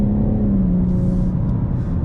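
Electric car accelerating hard, a loud close low rumble with a steady motor hum and road noise running through the whole short burst.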